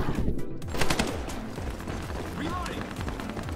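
Rapid automatic gunfire from a new weapon in a team death match video game crackles in fast bursts, mixed with game effects and a voice talking over it.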